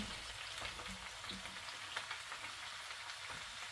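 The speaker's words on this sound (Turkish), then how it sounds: "Şimdi yıkamış olduğum ve doğramış olduğum pırasalarımı da ilave ediyorum." Steady crackling sizzle of leeks frying in a hot pan, a continuous bright hiss with small pops and occasional stirring, no voices.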